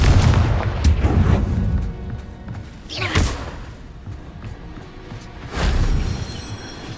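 Confringo fire spell explosions in Hogwarts Legacy: a heavy booming blast, a second sharp crackling burst a couple of seconds later, and a third rumbling boom near the end, each decaying into a low rumble.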